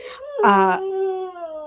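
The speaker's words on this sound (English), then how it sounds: "Can y'all hear the dog?" A dog howls nearby in a long, drawn-out wail that rises into a strained cry before trailing off. The wail is clear and fairly loud over quiet surroundings.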